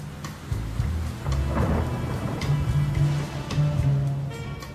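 Thunder rolls and rumbles through a thunderstorm, deep repeated swells over a steady hiss of falling rain, heard alone without voices.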